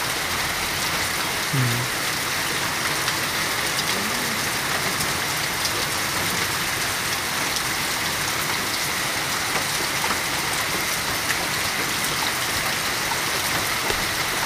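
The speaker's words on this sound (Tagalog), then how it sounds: "Lakas ng ulan." Heavy rain pours down in a constant, dense roar, steady and close for the whole stretch, with no speech over it, in Montalban, Rizal.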